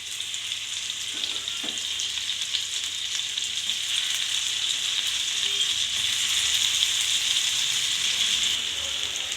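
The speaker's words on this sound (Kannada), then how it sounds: "ನೋಡಿ ಪನ್ನೀರು ಒಂದೊಂದಾಗಿ ಇದರಲ್ಲಿ ಹಾಕ್ಕೊಳ್ಳಿ." Paneer cubes sizzle and fry steadily in a hot pan over a slow flame, a dense continuous crackle with faint stirring, no speech.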